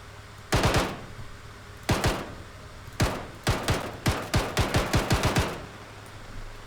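Weapon fire in Star Citizen during a ship hijack mission: short, close bursts of shots, first a few spaced volleys, then a quicker string of bursts, over a low ambient hum.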